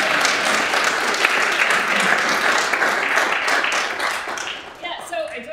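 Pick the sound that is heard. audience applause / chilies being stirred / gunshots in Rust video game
audience applause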